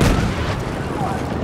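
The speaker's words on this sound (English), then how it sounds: "He just blew the wall up." An enemy blowing up a wall in Battlefield 1 gives a loud, dense blast with rumbling low end that fills the whole moment, mixed with battlefield noise.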